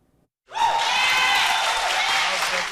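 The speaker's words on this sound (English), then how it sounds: "The crowd erupting in cheers after the Uvalde City Council unanimously denied embattled Police Chief Pete Arredondo a leave of absence" After a brief hush, a crowd at a Uvalde City Council meeting suddenly erupts into loud, sustained cheering and applause that fills the room without letup.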